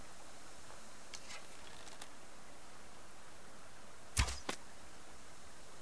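An arrow loosed from a bow at a chicken in the survival game Subsistence, a sharp close whoosh and snap standing out once against quiet ambient hiss, with a few faint ticks before it.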